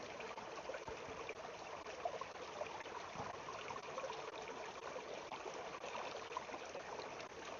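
Water treated with bleach in a purification test, fizzing and bubbling in a steady, faint, continuous hiss with a soft trickling texture, heard close and alone.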